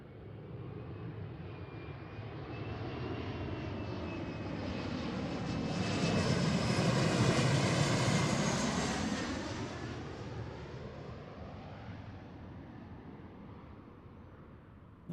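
A heavy widebody jet arriving at Seattle airport, its engine roar swelling steadily from a distant rumble to a loud peak overhead before fading away, with no talk.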